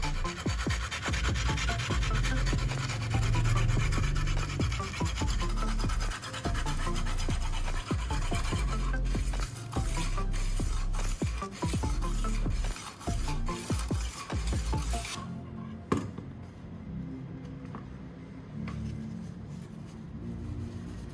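A blade is rubbed back and forth across sandpaper in steady, close scraping strokes for about fifteen seconds, then the scraping becomes softer and more scattered.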